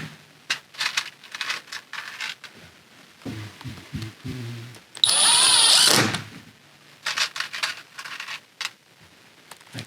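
A power drill driving screws into a cardboard van build interior, short bursts of motor whine and one longer sustained drive, between clattering handling of parts and tools, no talking.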